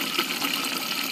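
Water poured from a container into green salsa in a pan while making chilaquiles verdes, a steady close splashing pour lasting about a second with no talk.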